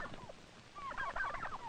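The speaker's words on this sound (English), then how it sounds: "Turkeys are poultry, just as chickens and ducks." Farm turkeys, larger poultry kept alongside chickens and ducks, give a loud burst of bubbly gobbling calls after a brief softer call, close by with no talking.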